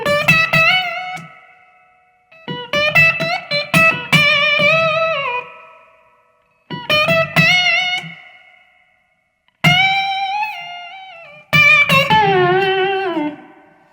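Slow blues slide guitar lick, played alone in several phrases separated by short pauses, with gliding, vocal-like notes, slight grit and ringing decays.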